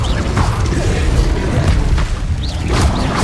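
An Incendio fire spell cast in Hogwarts Legacy: loud, dense rumbling booms with crashing, creaking mechanical clatter and short rising whooshes layered over one another.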